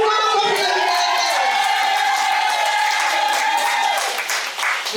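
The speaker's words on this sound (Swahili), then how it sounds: "Hebu tumshangilie Mungu kwa makofi na vigelegele" Inside a church during a women's service, loud, dense clapping and cheering from the congregation fill the room, topped by sustained high ululations that waver continuously.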